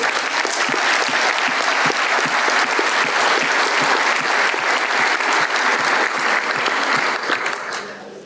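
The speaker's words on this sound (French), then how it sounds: "vous pouvez les applaudir" Audience applause at a union congress, the FGTA Force Ouvrière congress, with dense, steady clapping from a large crowd that fills the whole stretch and fades slightly at the end.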